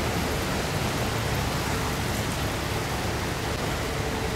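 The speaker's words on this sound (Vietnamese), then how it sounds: "Hôm nay nước đổ cũng rất là mạnh nha các bạn." Strong water rushing through a salinity-prevention sluice gate, a dense, steady roar close by with no breaks.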